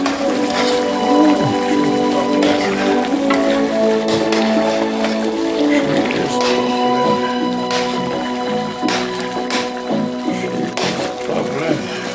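Jamaican brown stew pork simmering in a pot, with a steady crackling, popping bubble and sizzle throughout, accompanied by a low hum and occasional clinks.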